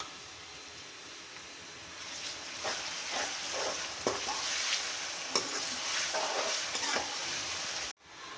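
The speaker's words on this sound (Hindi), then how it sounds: "इसको अच्छी तरह भूनना है।" Ginger garlic paste and onions fry in a pan for a white chicken korma, a steady close sizzle broken by repeated stirring scrapes that ends with a sudden brief cut.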